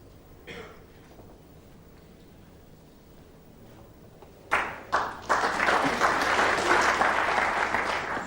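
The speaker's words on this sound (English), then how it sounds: "the crowd are applauding" A snooker crowd at a Ken Doherty match breaks into applause after a quiet stretch, a couple of early claps then a sudden full, sustained burst of clapping that stays loud to the end.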